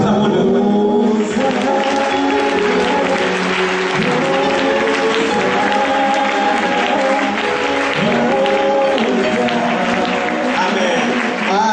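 A church congregation applauding and cheering loudly, a dense continuous roar of clapping and raised voices filling the room, with some speech mixed in.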